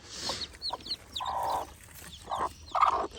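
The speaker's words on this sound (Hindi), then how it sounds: "तो मुर्गी जो है वो चूज़ों को बाहर ले आई थी" A hen leads her chicks around outdoors, giving soft repeated clucks mixed with thin high peeps from the chicks, close and fairly quiet, with no talk.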